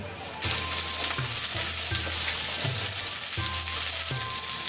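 Onion stir-fried in olive oil in a home Japanese kitchen gives a steady, close hiss of frying, broken by repeated scraping strokes of a utensil in the pan, with no talk.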